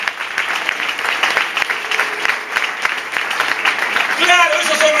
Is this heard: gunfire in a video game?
no